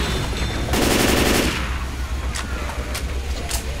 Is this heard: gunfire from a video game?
yes